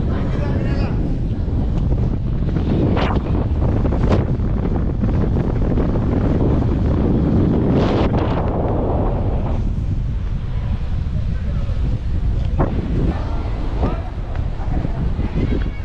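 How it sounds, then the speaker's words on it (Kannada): Strong, heavy wind roars across a cracked rocky cliff edge, buffeting the microphone in a loud, unbroken rush with occasional gusts throughout. "ಗಾಳಿ ಬೇರೆ ಹೆವಿ ಇದೆ"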